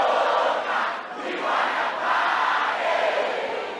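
A concert crowd at a show at Fiesta chants back to the performer in a loud, massed roar of voices that swells and dips in waves.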